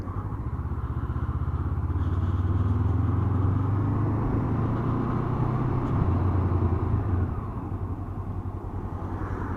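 A Honda CB500F motorcycle engine runs with a smooth, refined low hum, idling and revving gently close by for about ten seconds without talk.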